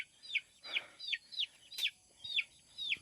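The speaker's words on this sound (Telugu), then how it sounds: "కోళ్ళు అయితే ఇక్కడ చేరాయి. వీటికి టైం అయింది కదా, సాయంత్రం అయిపోయింది" Chickens gathering to roost at dusk in a hill camp give about seven short, sharp clucking calls in an even rhythm, close and clear against a quiet background.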